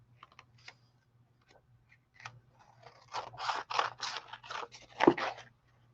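Scissors trimming paper for a junk journal, a few scattered snips at first, then a quick run of about eight close, crisp cuts in steady rhythm near the end.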